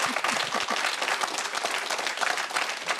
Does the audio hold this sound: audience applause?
yes